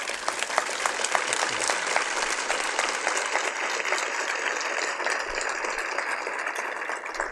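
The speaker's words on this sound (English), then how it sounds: "please join me in a round of applause for them." Steady audience applause fills a film Q&A at the Toronto International Film Festival 2018, many hands clapping evenly and continuously at moderate distance, with no voices over it.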